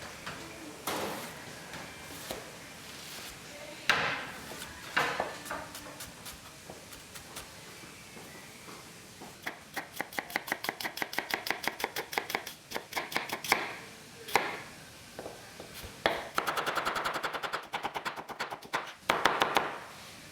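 Kitchen knife chopping down on a cutting board, sparse single knocks early, then bursts of rapid, evenly spaced cuts in quick runs, crisp and close, with pauses and a final flurry of fast chops.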